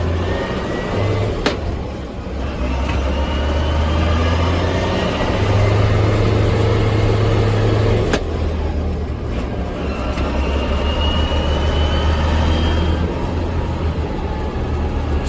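A 2000 JCB Fastrac 3185 tractor in high range drives down a road, its heavy diesel engine droning steadily with low rumble and shifting load, no talk over it.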